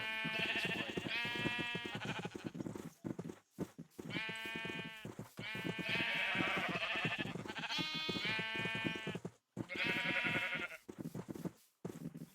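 Sheep in the Minecraft Feed The Beast video game bleat repeatedly, several loud, wavering calls overlapping one another with only brief gaps between them, and no voices over the top.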